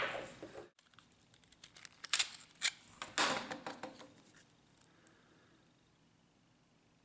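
Blade cutting and snipping at the glued plastic cover of an HP ink-jet cartridge, a quick cluster of close, crisp clicks and scrapes that tapers off into quiet.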